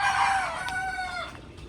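A rooster crows once, close and loud, its drawn-out call falling in pitch over under two seconds at a village poultry shed.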